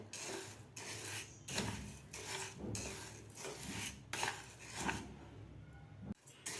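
Rice dry-roasting in a pan over medium heat and being moved around, making a faint, continuous rasping and rustling scrape with rhythmic strokes, with no voices.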